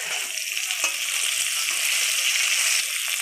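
Bitter gourd fries in oil in a pan with a dense, continuous sizzle and crackle, close and fairly loud. Faint stirring is heard now and then, and there is no talking.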